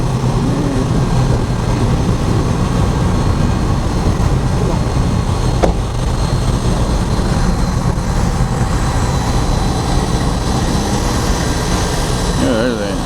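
Heavy engine drone from a car ferry's engine room, a loud, constant low rumble with a steady mechanical hum that fills the whole stretch, with faint voices underneath.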